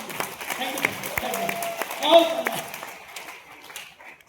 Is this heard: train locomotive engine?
no